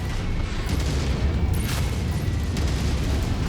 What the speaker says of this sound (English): there are so many explosions on it